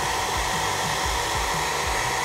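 A heat gun blows steadily on vinyl graphics to soften them during a motorcycle graphics kit fitting, giving a close, continuous airy roar with a faint motor hum and no talk.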